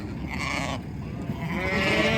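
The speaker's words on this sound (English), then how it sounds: "Hundreds of sheep in this truck." Sheep packed by the hundreds in a semi-trailer truck bleat loudly and close, overlapping calls forming a continuous noisy chorus over the rumble of the trailer.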